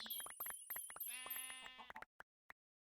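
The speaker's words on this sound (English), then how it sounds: "Who knows why the sheep are there." Sheep bleat in a video game, a quick run of buzzy, wavering synthetic calls layered with a tonal drone, ending in a few sharp clicks before falling silent.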